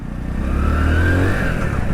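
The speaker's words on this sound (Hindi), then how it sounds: "जैसे पहला गियर लगाएंगे आप इस मोटरसाइकिल में तो पहले गियर में आपको फ़र्क पता चलेगा।" Hero Splendor Plus Flex Fuel motorcycle pulling away in first gear, a steady close single-cylinder engine note rising slightly as it moves off, continuous and fairly loud with no talk.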